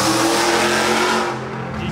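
A Ford Mustang GT muscle car at a cars and coffee meet accelerates hard, a loud close engine roar that swells and then fades as it pulls away over about two seconds.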